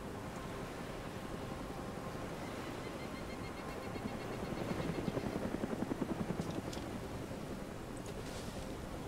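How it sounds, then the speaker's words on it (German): A helicopter in the survival game DayZ Origins flies close by, its steady rotor roar swelling and pulsing more sharply midway, with no talking over it. "Der Heli kommt zurück"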